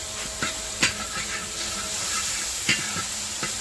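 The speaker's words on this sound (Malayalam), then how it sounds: "ഇതൊന്ന് നന്നായി ഒന്ന് ഇളക്കി കൊടുക്കണം" Onion masala with salt and ginger-garlic paste frying in a pan, a steady close sizzle broken by several sharp scrapes and knocks of stirring, no talking.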